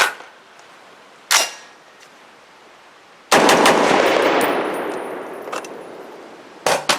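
A Brownell's BRN-10 rifle fed from an IMI magazine fires sharp, loud shots outdoors. One early report is followed later by a quick string of rounds with a long ringing tail and a final shot.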